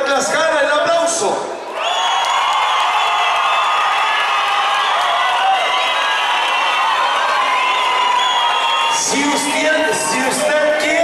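Crowd at a bull riding tournament in a mobile bullring, loud cheering, whistling and shouting with applause, a brief dip near the start, then a sustained roar before the noise thins near the end.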